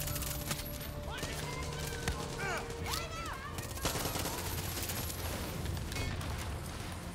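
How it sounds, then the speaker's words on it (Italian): Rapid gunfire and bursts of automatic fire from the video game Far Cry 6, dense and continuous over game music and effects, with excited voices talking over the shooting. "Sparo, sparo!"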